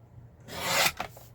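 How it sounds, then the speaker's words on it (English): Rasping trim along the edge of a stack of book pages, one sustained scraping stroke followed by a shorter second rub, close and fairly loud with no talking. "I'll trim down from this edge"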